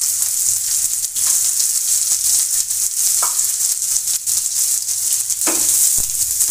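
Onion, garlic and green chili fry in hot oil in a pan, giving a steady, loud sizzle with occasional stirring scrapes and no talking.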